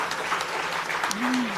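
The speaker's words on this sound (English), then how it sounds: "Once again, a huge round of applause." Applause from a conference audience in Bengaluru, a brief wash of clapping with a voice rising over it near the end.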